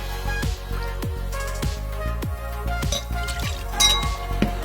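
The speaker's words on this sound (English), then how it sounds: "2 ounces of Devil's River Rye goes into that." Rye whiskey goes into a mixing glass, with small clinks and taps of glassware close by under a steady background hum, each sharp strike ringing briefly.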